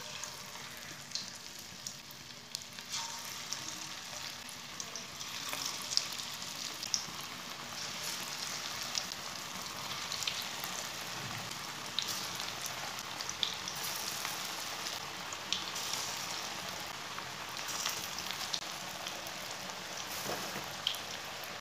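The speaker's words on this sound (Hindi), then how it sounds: "ऑयल हमारा गर्म हो चुका है," Onion pakoras deep-frying in hot oil, a faint, steady, crackling hiss with fine bubbling pops that continues evenly throughout, with no one speaking.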